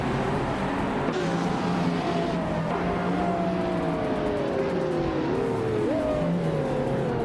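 Race cars roar off the line at the Autodromo de Antioquia in a racing video game, with a 2017 McLaren 720S on pole: a steady, loud engine drone with rising whines as gears climb, under game noise and no talk.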